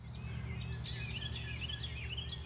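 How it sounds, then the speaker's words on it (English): Birds sing and chirp in the early morning behind Angels Rest Hostel in Pearisburg, Virginia, in April. Scattered high calls repeat over a steady low outdoor hum, with no talking. "All the birds waking up up back here."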